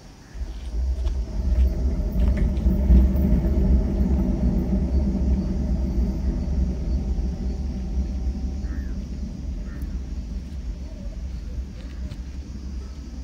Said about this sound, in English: just release it and it brings the thunder sound